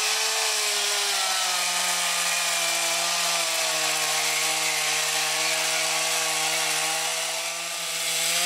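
A chainsaw carving a wood sculpture at a park anniversary fair, its engine holding a steady, loud, buzzing drone throughout with a slight dip near the end, nothing else heard over it.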